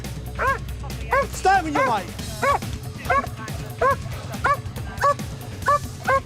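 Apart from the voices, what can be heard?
police dog barking during a chase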